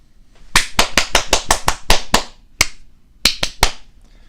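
Two podcast hosts clap the show in: a quick run of about nine sharp, close hand claps, a short pause, a single clap, then three more claps to finish.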